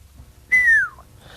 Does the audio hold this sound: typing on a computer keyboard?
no